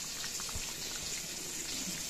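Tilapia pieces slip into a pot of bubbling fish curry, giving soft splashes over a constant watery bubbling and hiss, fairly quiet and close with no voices.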